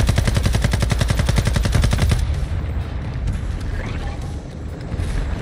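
Rapid, loud bursts of automatic gunfire hammer out in the Call of Duty: Modern Warfare III Shadow Siege reveal event, then give way to quieter, more distant battle noise.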